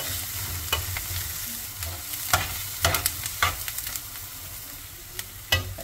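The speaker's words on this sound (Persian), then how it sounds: "دو تا پیاز بزرگ رو کمی تفت میدم داخل یک قاشق روغن." Steady sizzle of onions frying in a spoonful of oil in a pan, with scattered clicks and scraping stirs over the constant crackle.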